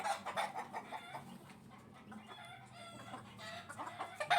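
Laying hens and a brood cock cluck steadily at close range in a farm coop, a busy overlapping chatter of fowl calls without any talking.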